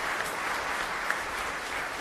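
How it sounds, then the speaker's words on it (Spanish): Congregation applause during Mass at San Miguel Arcángel parish in San Lorenzo, a dense, steady wash of many hands clapping together, moderately loud and continuous with no speech over it. "Fuerte aplauso entonces para nosotros."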